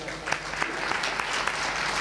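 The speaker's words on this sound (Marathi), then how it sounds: "खरंच दादासाठी एकदा टाळी वाजवा" Audience at a devotional Ram Katha gathering clapping, a dense continuous burst of applause with a few sharper individual claps standing out.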